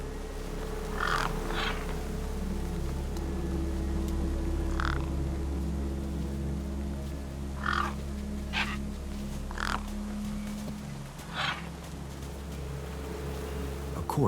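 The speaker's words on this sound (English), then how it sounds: "No way I was going to get between those birds and their feast." Crows cawing in scattered short bursts while feasting on a corpse in the Beyond a Steel Sky video game, over a steady low ambient drone, several calls spaced across the scene.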